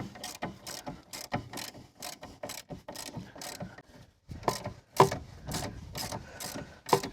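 A hand ratchet turns a bolt during a Mercedes wheel bearing replacement, giving a close, regular series of clicking bursts in steady rhythm, with a short pause partway through.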